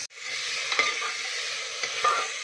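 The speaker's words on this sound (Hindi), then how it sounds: "अब इसमें कटा हुआ प्याज डाल करके इसे थोड़ी देर फ्राई करेंगे।" Chopped onion frying in a pan over ginger-garlic paste, a constant close sizzle with a couple of spoon scrapes and a soft clink, nobody speaking.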